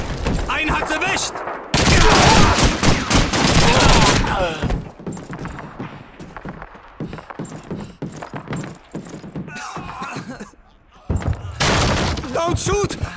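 Bursts of rapid gunfire from the WWII shooter Call of Duty 2, one heavy volley early and another near the end, with quieter stretches of battle noise and voices talking in between.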